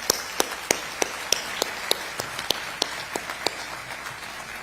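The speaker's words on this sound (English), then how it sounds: "Let's clap it up for them." Sparse, scattered hand claps from a small group at an outdoor studio groundbreaking ceremony in Oceanport, New Jersey, irregular and fairly faint, with a few sharper claps standing out against a soft background hiss.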